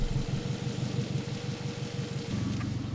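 A 2003 Toyota Camry 2.4L four-cylinder engine runs steadily, a close low rumbling idle with a slight rise in level near the end, no voices.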